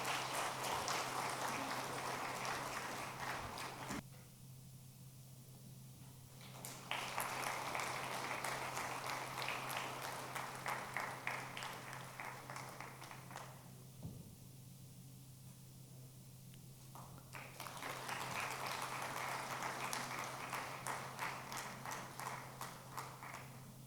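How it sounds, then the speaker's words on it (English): Audience applause at a Global CEO Forum launch in Sri Lanka: sustained rippling clapping from a large crowd that swells and dips in waves across the whole stretch, steady and without voices. "Everybody, a round of applause."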